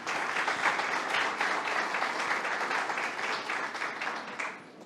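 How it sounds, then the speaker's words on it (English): An audience at a sustainability panel gives a round of applause for prize winners, a sustained patter of many hands that holds steady and then tapers off at the end. "a big round of applause for our winners"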